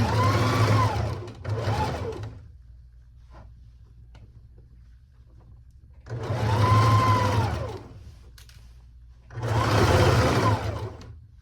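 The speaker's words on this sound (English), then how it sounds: "Sewing it at about a 1/2 inch." A sewing machine stitches a dress seam in three bursts of steady, whirring motor hum and needle clatter, separated by quiet pauses with faint handling clicks, close up and without talk.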